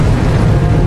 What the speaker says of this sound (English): We had over 70 explosions in 1 month. Sometimes there were 4 explosions a day.